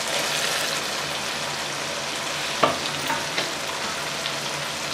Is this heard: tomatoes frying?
yes